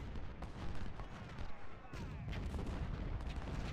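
Civil War artillery fire from the Battle of Nashville in Ultimate General: Civil War, a dense, continuous barrage of overlapping booms and rumbling gunfire with no clear gaps between shots.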